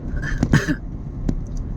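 A couple of short, sharp coughs close by, followed by one more brief cough after a pause.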